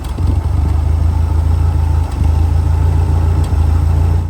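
An ancient Hyster forklift with a flathead engine idles cold and slightly uneven, a steady loud low rumble with faint dips in rhythm, running alone without talk.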